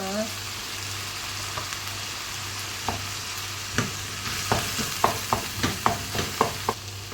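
Tuna sautéing with onions in a pan gives a steady, close sizzle throughout, joined by a series of rhythmic scraping and clinking stirring strokes that quicken toward the end, with no talk.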